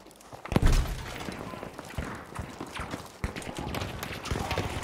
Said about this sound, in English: I hear footsteps out there.